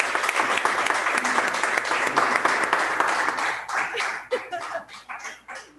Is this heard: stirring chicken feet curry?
no